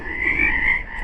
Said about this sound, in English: These sound like frogs.